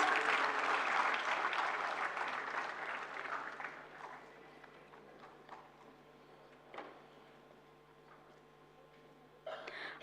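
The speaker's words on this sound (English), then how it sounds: "I want a roaring round of applause." Loud audience applause fills a hall at an award ceremony during the National Intellectual Property Conference 2023, then thins into scattered claps and fades, with a brief burst near the end.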